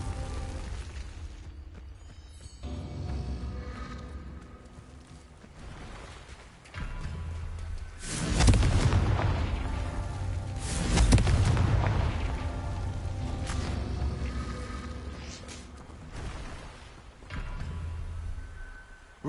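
Confringo fire-spell explosions in Hogwarts Legacy: several booming blasts with rumbling tails, separated by quieter spells and ambience, the loudest bursts arriving in the middle of a long stretch of game sound.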